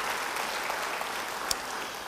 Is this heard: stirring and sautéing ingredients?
no